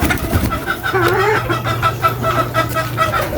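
Several laying hens cluck steadily and close by, a busy overlapping chatter of calls over a low background hum.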